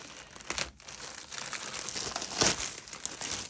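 Plastic packaging from a magic-themed subscription box crinkles and rustles steadily as it is pulled open, close and continuous with a few sharper tearing crackles.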